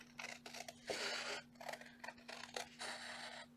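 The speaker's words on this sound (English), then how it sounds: "We're just going to use our scissors." Quiet, crisp snipping and crunchy cuts repeat in quick bursts, close up, with a steady low hum underneath and no talking.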